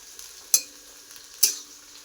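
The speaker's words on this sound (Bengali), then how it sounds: "এখন দেব এই যে কাঁচা লঙ্কা। এটাকে ভালো করে ভেজে নেই।" Green chillies fry in a pan with a soft background sizzle, broken by two sharp utensil scrapes or taps about a second apart.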